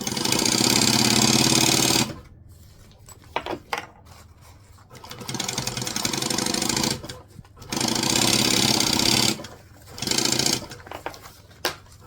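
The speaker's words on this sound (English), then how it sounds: "go along the edge here and stitch the 2 layers together all the way around." A sewing machine stitches two fabric layers together in bursts of fast, loud, buzzing mechanical rattle, stopping and starting several times with quieter handling noises in the pauses.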